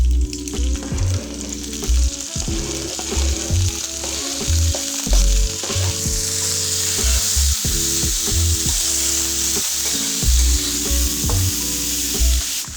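Garlic sizzles and fries steadily in a hot pan while pasta is being made, a continuous close crackle broken by repeated clinks and scrapes of a utensil stirring.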